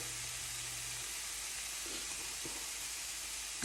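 Cauliflower rice and granulated onion frying in a pan give a steady, soft sizzling hiss that runs evenly throughout, fairly quiet and close, with no talking.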